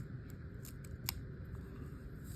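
Scissors cut paper for a paper snowflake in a few short, crisp snips, close and quiet over a low steady background hum.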